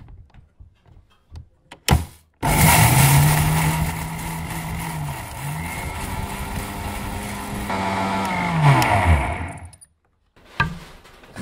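An electric mixer grinder grinds turmeric whirring loudly for several seconds, its motor pitch dipping and rising as it grinds, then cuts off abruptly.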